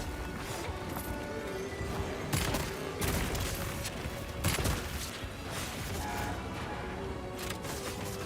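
A bowgun loaded with slicing ammo fires in Monster Hunter Wilds, with a few sharp cracking shots punching through a dense, busy wash of battle noise that runs steadily throughout.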